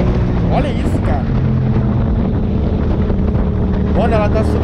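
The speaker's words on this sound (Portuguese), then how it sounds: "a arrancada dessa moto é muito louca" A modified Yamaha MT-07 motorcycle accelerates hard, its engine revving up quickly with rising tones, close by and loud under steady wind buffeting.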